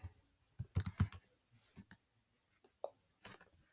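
Someone types a search on a computer keyboard: a few faint, scattered key clicks, with a short cluster early on and isolated taps later in a quiet room.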